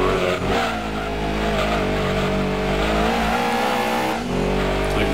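A Lancia Stratos race car engine in Gran Turismo 2 roaring at high revs, pitch rising and falling as it accelerates and shifts, loud and continuous.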